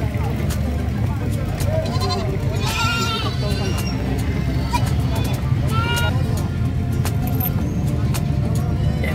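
Goats bleat repeatedly at a busy livestock market in San Carlos City, several wavering calls near and far over constant crowd noise and horns, with people talking throughout.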